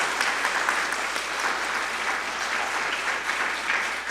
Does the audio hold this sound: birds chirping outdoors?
no